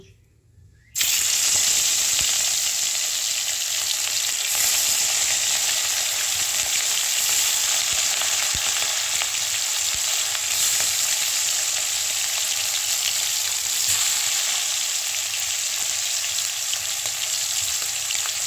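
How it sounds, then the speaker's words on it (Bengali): Rohu fish pieces frying in hot oil in a kadai make a loud, continuous broadband sizzle that starts abruptly after a brief quiet moment and holds steady and close. "কড়াইয়ে তেলটি গরম হয়ে গিয়েছে, এবার মাছগুলি ভেজে নেব"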